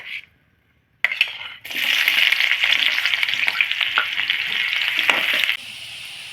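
Chopped onion goes into hot oil in a pan for a North Karnataka dill-leaf palya, landing with a short clink and then a loud, steady, close sizzle that holds for several seconds before easing off. No one speaks.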